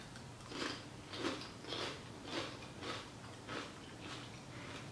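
Crunchy chips made from sliced jalapenos are bitten and chewed near the microphone, about eight quiet, evenly spaced crunches in a row.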